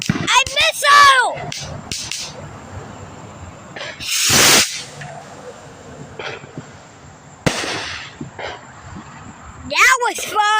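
Small handheld firework missiles launch at a Fourth of July celebration, giving rising whistles and sharp bursting cracks spread across several seconds. People talk and exclaim nearby between the launches.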